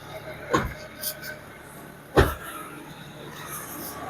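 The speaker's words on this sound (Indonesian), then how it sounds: "Kita coba buka ruang mesin" The engine hood of a 2000 carbureted car being opened, heard as a couple of sharp metallic clunks and a softer knock spaced over a few seconds against a quiet background.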